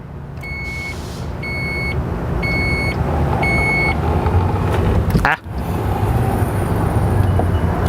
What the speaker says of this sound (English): the Dodge Durango gives you exactly 4 beeps of warning